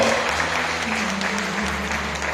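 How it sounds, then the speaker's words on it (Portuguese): A church congregation claps together at a worship service, a dense wash of applause under a low sustained organ or keyboard tone, with faint voices mixed in. "Aplauda bem forte ao Senhor"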